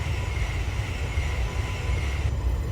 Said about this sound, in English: I hear another train coming